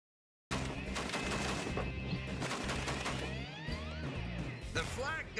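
Flak gun mounted on a half-track firing in rapid bursts, loud and close, with sharp cracks and mechanical clatter while people talk over it.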